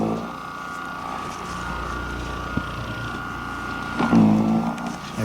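Snow Joe 40V electric snow shovel clearing deep snow, giving a steady electric hum and whir throughout, with a brief louder surge of churning near the end.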